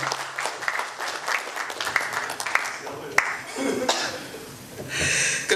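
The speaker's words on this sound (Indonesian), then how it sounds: "Beri tepuk tangan" Applause at an Indonesian zakat forum, moderately faint clapping from an audience with coughs and murmurs mixed in, fading and then swelling again near the end.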